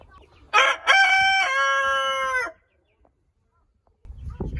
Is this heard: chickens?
yes